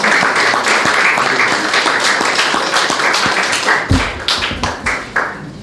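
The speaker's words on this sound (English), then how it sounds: "I think it deserves a round of applause." A conference crowd gives loud, close applause for freedivers Patrick Musimu and Karol Meyer, the dense clapping thinning into scattered individual claps near the end.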